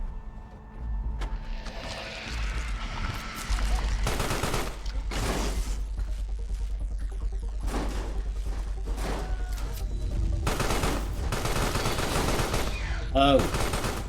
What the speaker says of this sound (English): I see some machine gun guys and a bunch of tanks.